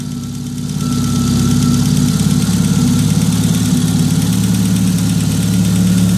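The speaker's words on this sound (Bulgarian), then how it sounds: "Пежото работи на 1000 оборота, без нищо да се прави друго" A Peugeot 106 1.6 Rallye engine with an inlet conversion settles into a steady idle at about 1000 rpm, a loud, close, even rumble with a slight knocking pulse and no talking.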